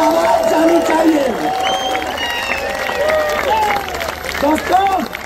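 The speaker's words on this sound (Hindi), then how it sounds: "तो एक बार दिखाओ जोरदार तालियों के साथ।" A large seminar audience at a marketing company event claps and cheers continuously, with a dense wash of applause mixed with loud excited shouting and crowd voices throughout.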